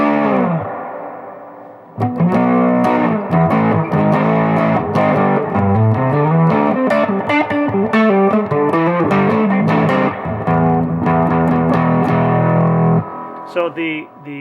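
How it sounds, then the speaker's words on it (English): A distorted electric guitar runs through a pedal with clipping diodes and large input and output capacitors for fat bass, loud saturated chords and riffs ringing for several seconds after a quiet start. "when you dial in the distortion, you'll start kicking in the clipping diodes"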